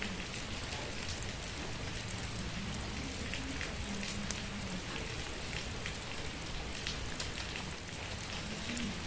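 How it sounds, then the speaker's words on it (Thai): Steady rain pattering on a surface, a dense even hiss with scattered drips, continuous throughout and fairly soft. "ฝนตก"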